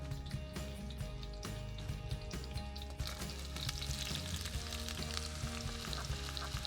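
Sliced white onion and Kashmiri chilies with curry leaves frying in a pan, a steady close sizzle that swells into a brighter, busier crackle partway through, with faint stirring and no talking.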